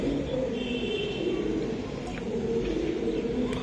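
Racing pigeons cooing steadily close by, a soft continuous low murmur of calls over constant background hum with faint chirps, no talk.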